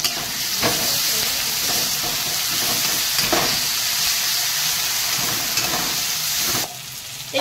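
Onions, tomatoes, cumin, chili and ginger paste frying in a pan, a loud, dense, steady sizzle with occasional stir scrapes, close up and uninterrupted by speech.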